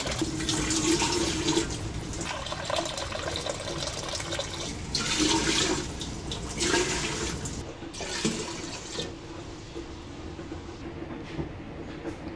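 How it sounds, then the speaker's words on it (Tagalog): Water pours into a pot for a cordyceps militaris soup, a loud steady rushing gush that surges in waves and then thins to a lighter trickle, with no talking. "So, maglagay tayo ng 12 bowl of water."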